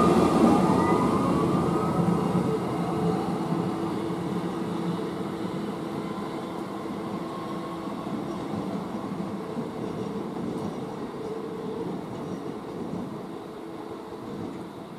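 A CityJet Express train pulls out of Kufstein station bound for Innsbruck, its steady rolling rumble and faint squeal slowly easing as it moves off, with no talking.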